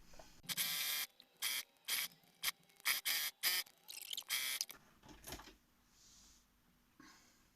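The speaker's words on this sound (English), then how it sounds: "So now I need to sew this seam." A sewing machine stitches a seam on a gathered dress, running in a string of short, loud bursts separated by brief pauses before falling quiet near the end.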